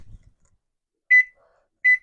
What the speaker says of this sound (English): So I'm going to set my timer for 38 minutes covered.